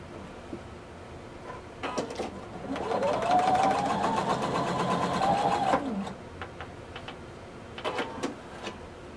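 A home sewing machine stitches a blazer sleeve seam in one sustained, close burst of rapid mechanical whirring in the middle, framed by scattered clicks and handling noises before and after.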